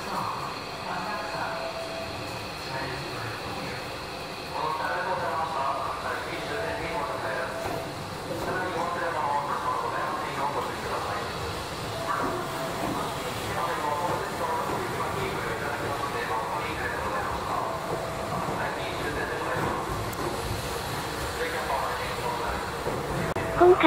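Tobu Skytree Line train pulls out of Tokyo Skytree station, a steady low rumble and hum of the departing cars rolling past at close range for over twenty seconds, with faint station ambience.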